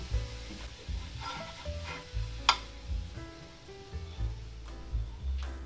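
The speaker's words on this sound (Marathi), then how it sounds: "आता दुसऱ्या पण साइडने आपण हे भाजून घेऊया।" A jowar flour dhirde cooks on its second side in a pan, giving a soft, continuous sizzle with faint scraping and light clicks, including one sharp tap midway, with no voices.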